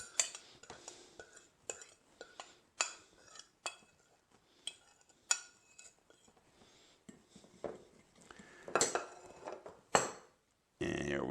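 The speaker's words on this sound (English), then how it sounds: "And here we go, and just mix it up." A spoon stirs a mixture of honey, sriracha and soy sauce in a dish, making sparse, quiet clinks and scrapes spaced irregularly, with a few louder taps near the end.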